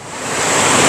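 Waterfall pouring out of a cave at Wawa Dam in Montalban, Rizal, a loud, dense, steady rush of water that swells slightly over the moment with no voices.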